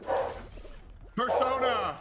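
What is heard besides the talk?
dog barking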